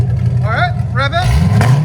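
A 2008 Chevy Corvette Z06 with a 7.0L V8, Kooks headers and a shotgun cat-back exhaust, valves open, rumbles loudly and steadily as the engine is revved, with excited voices talking over it.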